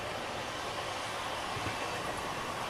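An Eastern Railway electric local train on Indian Railway passes as a steady, broad, fairly faint rolling rumble with no voices over it.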